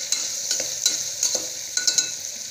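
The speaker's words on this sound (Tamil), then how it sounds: "வெங்காயம் கொஞ்சம் செவக்கட்டும்." Onions frying and being stirred in a pan for white pulao, with a steady high sizzle and several soft scraping stirs at regular intervals, close and alone with no talking.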